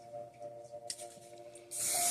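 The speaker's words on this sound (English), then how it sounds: "And I use this soft spray by Pantene" Pantene soft hairspray gives a brief aerosol hiss near the end, loud and close, after a few faint rustles and clicks.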